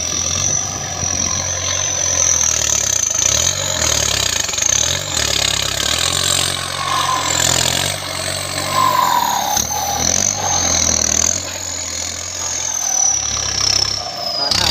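A Kubota M7508 turbo tractor engine runs steadily and revs up nearby, a constant low rumble under loud voices talking throughout.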